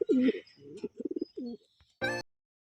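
Racing pigeons coo softly and repeatedly at close range while being loaded into a training box, a series of low throaty coos followed by a brief flutter or clatter near the end.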